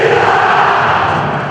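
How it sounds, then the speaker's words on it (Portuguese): Football crowd chanting a homophobic chant at a rival goalkeeper during a goal kick, a dense, loud roar of massed voices held steady with no gaps and no separate speaker. "Isso aí é uma torcida de futebol entoando um grito homofóbico contra um goleiro rival na hora de um tiro de meta."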